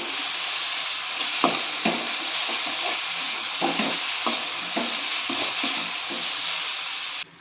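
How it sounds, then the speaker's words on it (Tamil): A steady sizzle of cabbage frying in a pan over high heat, with repeated scraping knocks of a spoon stirring at an irregular rhythm. "அடுப்பு தீயை கூட்டி வச்சு முட்டைக்கோசை கிளறி கொடுக்கணும்"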